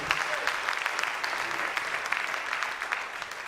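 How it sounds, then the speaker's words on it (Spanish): Church congregation applauding during a Spanish-language sermon, steady sustained clapping filling the room, moderately loud and continuous without talk. "Dale un aplauso al Señor pues esta tarde."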